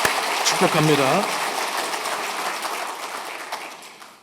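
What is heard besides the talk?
church congregation applauding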